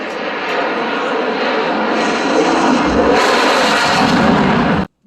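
Aircraft performing at the Aero Gatineau 2024 air show close to the runway, heard from under a tent as a loud, sustained engine roar that swells partway through and then cuts off abruptly.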